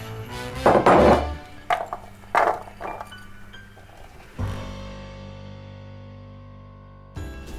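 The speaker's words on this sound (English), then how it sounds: "I'm just putting them on the baking tray here so that we can dry them out in the oven." Almonds being placed onto a metal baking tray, a few sharp clinks and rattling clatters in quick succession, then a lower resonant scrape and a fading ring from the tray.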